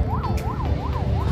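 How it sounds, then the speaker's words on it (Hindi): An ambulance siren crossing a bridge, its wail rising and falling in a steady repeating cycle over a continuous rumble of road traffic. "एम्बुलेंस जा रहा है इस ब्रिज पे।"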